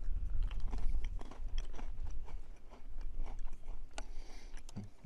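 Someone chews a salty biscuit from a Spanish 12-hour ration pack, close and crunchy, with steady rhythmic bites and grinding over several seconds, no talking.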